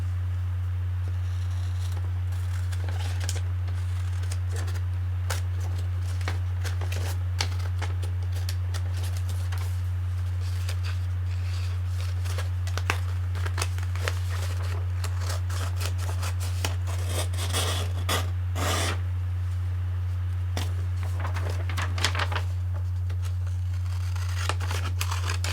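Scissors cut fabric for a costume sleeve, a long run of close, crisp snipping and slicing strokes in irregular bursts over a low steady hum, with no talking.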